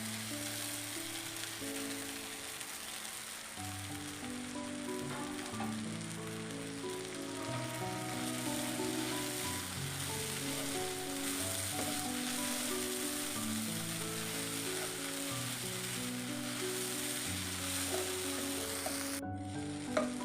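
Crumbled idli being stirred and fried with onions in a pan gives a steady, soft sizzle with light scraping from the stirring, continuous and moderately quiet throughout, with no voices.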